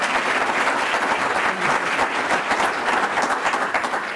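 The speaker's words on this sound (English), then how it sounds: "let's have a round of applause for her." Loud, dense applause at an annual meeting, many people clapping steadily and close for about four seconds without a break.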